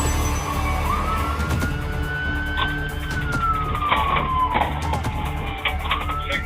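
A police car siren wails up and down over steady traffic and engine noise during a chase, fairly close and loud throughout.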